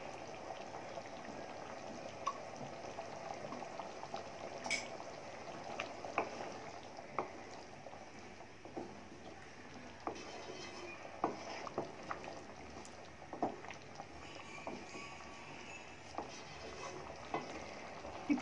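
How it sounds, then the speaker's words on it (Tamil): Chana masala curry bubbling and simmering in a pot after a teaspoon of ghee is added, a soft continuous low bubbling with scattered small pops and ticks, fairly quiet and steady with no talking. "இப்போ கொதிக்க ஆரம்பிச்சிச்சு."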